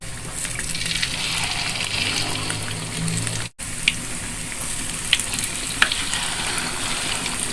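Stuffed tofu filled with egg and vegetables fries in hot oil, a loud, steady hiss and crackle with scattered pops, briefly cut off once before resuming.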